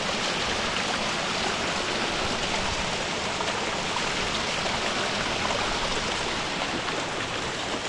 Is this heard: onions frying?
no